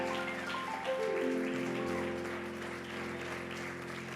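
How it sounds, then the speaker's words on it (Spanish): Congregation applause at a Sunday church service, a dense steady wash of many hands clapping with sustained organ or keyboard tones underneath throughout. "Levantemos aplausos de victoria esta noche"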